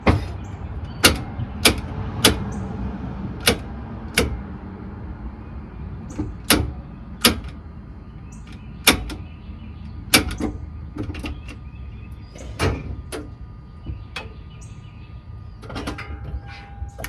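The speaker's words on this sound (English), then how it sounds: "I'm going to leave the camera down here and move the shifter and see what this does" Gear shifter and linkage on a Toyota Sequoia being worked back and forth, giving a series of sharp mechanical clunks and clicks at irregular intervals, close and fairly loud, with no talking.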